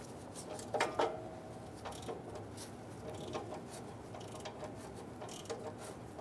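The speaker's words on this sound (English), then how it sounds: "Using a 10mm socket, remove the bolt for the heat shield." Quiet ratcheting clicks from a 10mm socket ratchet loosening a heat shield bolt on the exhaust of a 2011-2014 Hyundai Sonata, with brief louder clicking bursts early on over low workshop background.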